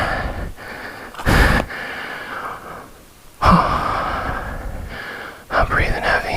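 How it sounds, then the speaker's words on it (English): Heavy, labored breathing from a rider exhausted after mudding a Yamaha TW200 dual-sport motorcycle, with loud sighing exhales and gasps separated by quieter pauses, close to the microphone. "I'm breathing heavy."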